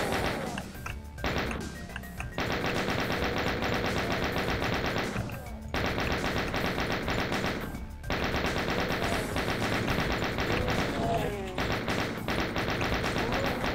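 Chaingun fire from an enemy in Doom II (Eternal Doom, Nucleus map), a loud, continuous rapid stream of shots with brief breaks between bursts, mixed with other game combat noise.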